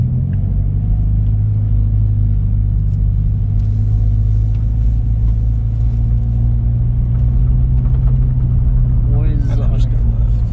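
Scion FR-S with a manual gearbox moving on light throttle without the clutch: a steady, loud, low engine rumble and drone, constant for the whole stretch, with people talking over it.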